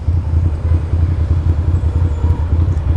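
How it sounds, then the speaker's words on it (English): A Ducati Monster motorcycle engine runs steadily at close range on a wet, cold winter ride, a continuous low throbbing rumble with an even pulse and no talk over it. "But yeah, the bike is running okay again."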